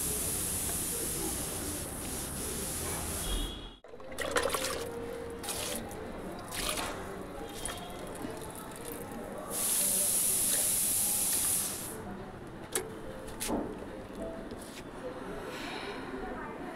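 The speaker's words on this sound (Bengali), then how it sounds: "আর তো অন্ধকারে জল দিচ্ছি" Potted plants in hot, sun-baked pots being watered after dark, a soft continuous splash and hiss of water into soil, with a brief louder spray burst midway and a voice talking throughout.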